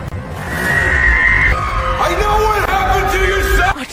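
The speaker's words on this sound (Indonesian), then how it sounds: "Wanita itu kembali berteriak menangis" A woman in a fantasy film about a school of magic screams and wails in a long, loud, high-pitched cry with wavering, bending tones over a low rumbling background.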